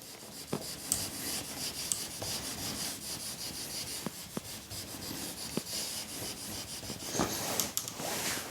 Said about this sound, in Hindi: तो इसको भी रब कर लेते हैं अब हम।